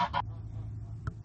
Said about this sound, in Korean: 병아리들을 모두 뺏긴다는 암탉은 너무 황당해서 소리를 지르기 시작한다